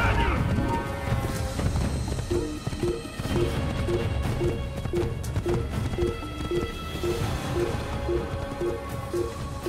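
Horse hooves clip-clop in a steady rhythm through the Assassin's Creed video game, set against a dense, loud backdrop of game music and ambience, with a voice speaking over the top.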